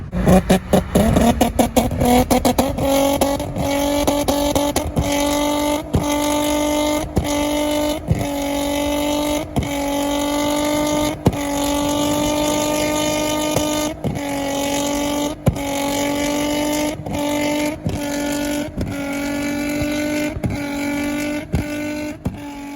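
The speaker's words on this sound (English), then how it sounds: "I could hear it ignite out the back, like it was like a kind of a poofy boom" An automatic Infiniti G35 with rolling anti-lag revs, holding a steady drone while sharp exhaust flame pops and cracks punctuate it at irregular intervals, loud and close.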